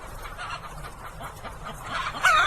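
Chickens clucking together in a crowded indoor broiler shed on a farm supplying KFC, a steady dense chorus of overlapping clucks and calls at moderate loudness, with a louder burst near the end.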